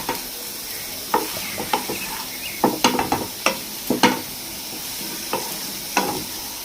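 Brinjal coconut fry stirred in a pan, a low sizzle under a series of scraping strokes of the spoon, irregular taps and scrapes close by.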